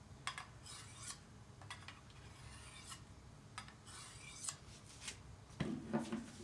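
A dull Bowie knife is drawn across a sharpening surface in repeated scraping strokes. The rasping is close but fairly quiet, with a few brief metallic clicks and no speech.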